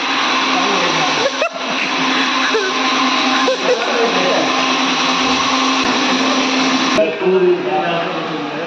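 A kitchen mixer grinder runs with a loud, steady motor whir that holds for the whole stretch, with voices faintly underneath.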